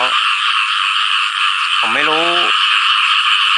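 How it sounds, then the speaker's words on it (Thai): Frogs and toads croak through a rainy-season morning in the rural countryside, a dense steady chorus that fills the background, with a short spoken voice breaking in briefly near the start and again midway. "เสียงกบกับอึงอ่างจะร้อง"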